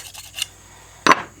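Knife spine scraping old fletching off a carbon arrow: a couple of short, faint scrapes followed by one louder, sharper rasping stroke, close and isolated in a quiet room.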